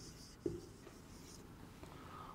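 Handwriting in a depreciation accounting lesson, a faint steady scratching of pen on a surface with one soft tap, low and close under a quiet background hiss.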